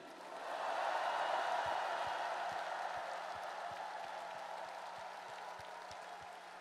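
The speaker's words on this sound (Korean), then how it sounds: "우리 두 분 후보님께 뜨거운 격려의 박수를 부탁드립니다" An audience applauds two candidates at a Democratic Party presidential nominee announcement. Steady, dense clapping swells early, then holds at a moderate, slightly distant level with a faint low thumping underneath.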